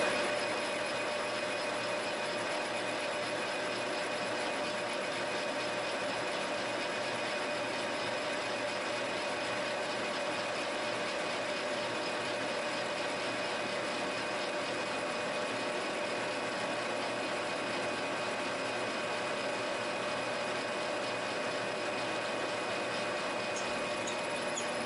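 Machine cutting threads into a Moen faucet cartridge, a steady continuous mechanical whir and hum with constant level throughout, close and alone without talk.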